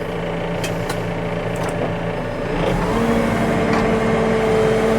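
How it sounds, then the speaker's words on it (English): A JCB 4CX backhoe loader with a tiltrotator idles loudly nearby, then its engine note firms up and a steady hydraulic whine rises as the jack legs lift. "Let's do the naughty thing and lift the jack legs up."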